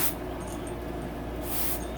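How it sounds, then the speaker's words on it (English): Brake cleaner sprays from an aerosol can onto engine bolts on a 2016 Honda CRF250R dirt bike during a big bore kit install, two close hissing bursts, the first short and the second longer. "let me spray it with some brake clean first"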